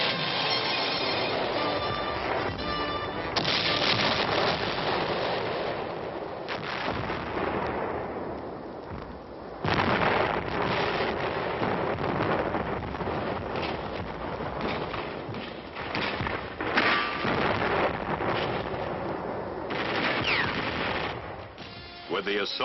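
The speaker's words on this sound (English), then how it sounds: "Naval fire made a shambles of German bunkers and batteries in preparation for the assault" Naval guns pound German bunkers and batteries on the Normandy coast, a loud continuous barrage of booming blasts and rumbling fire, with shots and bursts overlapping and a sharp heavy crack near the middle.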